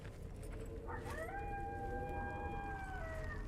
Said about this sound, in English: Nice little howl action.